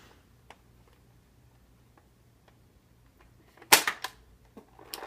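A Nerf blaster being fired and tested at close range: a sharp burst of snappy clicks and pops around the middle, with faint ticks before and another cluster of clatter near the end.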